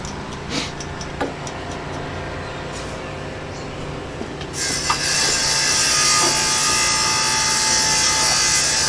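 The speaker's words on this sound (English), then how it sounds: "That sound you're hearing is somebody running a tile saw across the street." A tile saw runs somewhere across the street as a steady, distant grinding whine that grows louder and brighter partway through, with faint clicks and knocks nearby.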